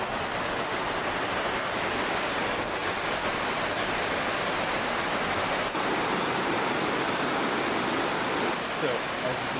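River rushing past a Hakone onsen in Japan, a steady dense wash of flowing water at constant loudness throughout, with no voices.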